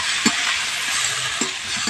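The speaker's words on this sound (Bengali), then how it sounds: "এবার ডাল আলু সব একসঙ্গে দিয়ে একটু ভাজা ভাজা মতো করে নেবো হালকা" Lentils and potatoes fry in a pan with a steady, close sizzle, and a spoon scrapes and stirs through them in a few distinct strokes. No one speaks.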